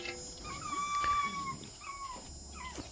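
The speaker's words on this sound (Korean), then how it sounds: "이게 강아지들이 아, 날씨가 추운데도 굉장히 활력도가 좋네요." Jindo puppies playing in a cold yard give a string of high, thin whines and yips, rising and falling cries close by with no one talking.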